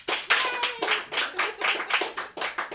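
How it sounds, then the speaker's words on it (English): Audience at a comedy show clapping in a brisk, uneven burst of hand claps that rises and dips over a few seconds, close and clear with no talking over it. "So give yourselves a round of applause for showing up."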